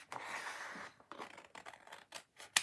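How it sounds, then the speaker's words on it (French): Scissors snipping through card during paper craft, a run of short dry cuts with a longer slicing stroke at the start, close and quiet, with no talking. "si je découpe, je vais découper"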